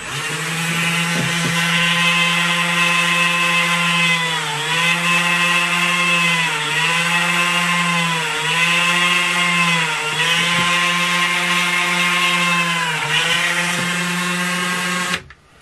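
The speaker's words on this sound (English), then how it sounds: "I have a little Dremel here that I just trim the holes." A high-pitched Dremel rotary tool whines steadily while drilling holes in leather, dipping in pitch several times as it bites in, with no talking.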